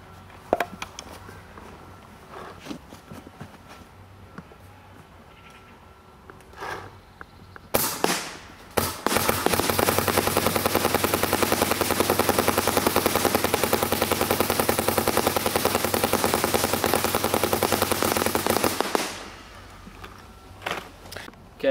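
Valken Redemption tournament-grade paintballs, about a hundred, fired rapidly at a target 60 feet away. The marker lets out a dense, loud, unbroken volley lasting around ten seconds, with a few separate shots before it and quieter handling noise around it.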